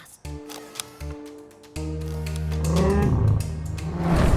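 A wild animal, likely a big cat, roars in a video game, a low growl swelling into a long, loud, rising roar over a droning game score.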